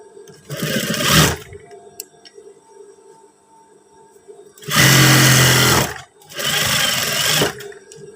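A sewing machine stitches the side of a trouser pocket flap in three steady bursts of whirring, the first short and the last two longer, with quiet pauses in between.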